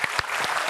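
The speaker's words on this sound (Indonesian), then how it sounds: "Saya minta tepuk tangan dulu untuk memeriahkan studio" A Kompas TV studio audience claps, a brief burst of several distinct hand claps in quick, uneven succession.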